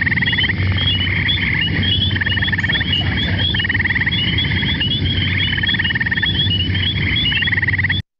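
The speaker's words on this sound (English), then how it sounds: "the thing that's going like, that one's the western chorus frog" Western chorus frogs calling in Minnesota, repeated rising rasping trills in a dense rhythmic chorus, loud and continuous throughout without any talking.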